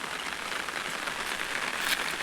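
Rain falls steadily on an open farm field where pigeon pea is being sown, a soft, even hiss of drops throughout, fairly faint and without voices.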